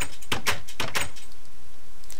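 In the Minecraft video game, a redstone-powered door opens with a quick cluster of four or five sharp clicks and clunks in about a second, loud and close, then a steady background hum.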